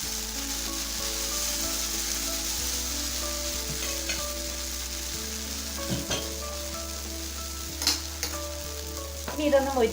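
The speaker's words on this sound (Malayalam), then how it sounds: "ഇപ്പം നമ്മുടെ ദോശക്കല്ല് നന്നായിട്ട് ചൂടായിട്ടുണ്ട്. ഇനി നമുക്ക് ഓരോ ദോശയായിട്ട് ചുട്ടെടുക്കാം." Dosa batter spread on a hot cast griddle: a soft, steady sizzle close by, with a few scraping clinks near the end.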